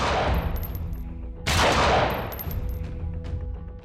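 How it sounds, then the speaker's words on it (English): Rifle gunshots from a documentary reenactment of the Kennedy assassination, fired from a sniper's nest: loud, close sharp blasts with echoing tails, a strong second burst midway, no speech over them. "Deep in the sniper's nest, Oswald fires 3 bullets."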